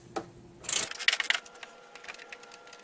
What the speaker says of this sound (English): Take your socket and ratchet